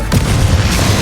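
A Confringo spell explosion in Hogwarts Legacy lands as a loud, deep boom that rumbles on for about a second.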